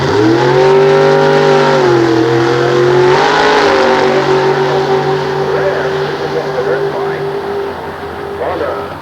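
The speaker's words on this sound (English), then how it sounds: "1971 Chevrolet Corvette." A 1971 Chevrolet Corvette runs at a 1993 nostalgia drag race at Sears Point, its engine a loud sustained droning tone that dips and shifts pitch, with an announcer talking over it.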